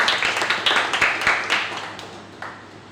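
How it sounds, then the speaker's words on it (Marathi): Applause from an audience at a Goa theatre day cultural function, honouring a speaker: a burst of clapping, dense at first, then thinning out and fading over three seconds. "त्यासाठी परत एकदा सगळ्यांनी त्यांच्यासाठी टाळ्या"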